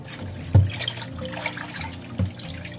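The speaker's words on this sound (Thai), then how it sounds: "ล้างนะล้างทำความสะอาดเลย จะล้างก็สองน้ำค่ะ" Water mimosa greens are rinsed in a basin of water, with soft sloshing and trickling and two louder splashes, close by, with no voices.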